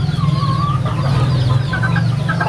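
Chicks and Asil chickens clucking and peeping steadily at close range, with soft chirps scattered over a constant low clucking murmur and no one talking.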